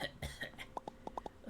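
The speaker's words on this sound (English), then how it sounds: "You just coughed up a lot of gunk" A character in the Another Crab's Treasure video game coughs: a few rough hacking coughs, then a quick series of short, sharp spluttering coughs, faint and close.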